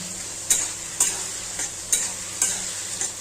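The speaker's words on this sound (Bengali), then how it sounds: "এখানে চিংড়ি মাছগুলো ভাজা করছি" Prawns frying in a pan with a steady hiss of oil, punctuated by five sharp utensil scrapes or taps at roughly half-second intervals, fairly close and with no talking.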